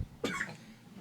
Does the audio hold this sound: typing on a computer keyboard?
no